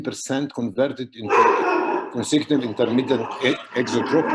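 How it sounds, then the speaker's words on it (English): A dog barks close by in a home, its barks mixed in with someone talking steadily during an online medical discussion. "Sorry for my dog."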